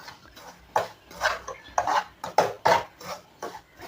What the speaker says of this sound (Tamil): இப்போ இந்த நெய்யிலேயே இந்த ரவையை போட்டு இன்னும் கொஞ்சம் கூட வறுத்துக்கலாம்.